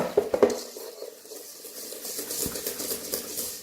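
Brownie batter with sugar is mixed by hand in a bowl: a few sharp utensil knocks at the start, then a steady, soft, gritty swishing of continuous stirring close by, with no voices.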